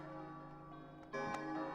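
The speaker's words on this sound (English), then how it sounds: "The bell!" Bell ringing in the Kingdom Hearts Re:Chain of Memories video game, a faint sustained metallic tone with a soft struck onset partway through, with no talk.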